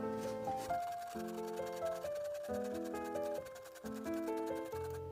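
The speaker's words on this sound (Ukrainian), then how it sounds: "Одну велику моркву натираю на крупну терку." A large carrot being grated on a coarse grater gives fast, rhythmic rasping strokes that run steadily under louder background music.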